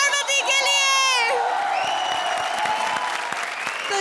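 A studio audience at a comedy show's grand finale bursts into loud applause with cheering and whoops as a sung qawwali ends. A held singing voice fades out over the dense clapping crowd.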